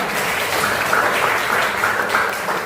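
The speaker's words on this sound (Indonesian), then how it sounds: "Tepuk tangan untuk kalian semua." Steady, dense applause from a classroom of students after a group presentation, continuous clapping held at an even level for the whole stretch with no talk over it.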